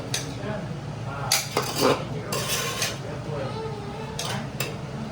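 Rice going into a pot for chicken biryani brings metal clinks and scrapes of a spoon against the pan, several sharp knocks in a burst, over a quiet kitchen with someone speaking.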